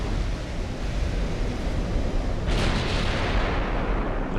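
Naval shellfire in Ultimate Admiral: Dreadnoughts, HE shells landing around a battleship, heard as a continuous loud roar of distant booms and surf-like rumble, growing brighter and harsher partway through.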